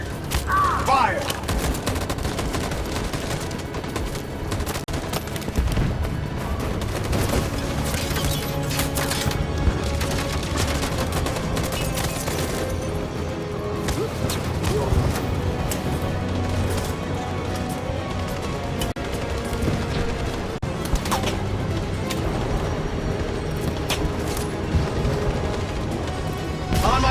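Dense, continuous gunfire from the video game Detroit: Become Human, with volleys of shots, cracks and crashes rattling on for nearly half a minute, and voices occasionally heard beneath the barrage.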